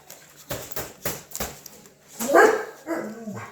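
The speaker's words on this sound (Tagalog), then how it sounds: "Ay, ang mga aso, anak." Several dogs bark in sharp bursts at a home, some close, with a higher yelping bark near the end, over faint room background.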